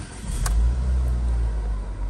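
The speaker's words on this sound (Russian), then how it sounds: "Запускается двигатель отлично, никаких ошибок не горит, работает хорошо." A 2018 Renault Sandero with an automatic gearbox, its engine running with a steady low rumble close by, and a brief sharp click near the start.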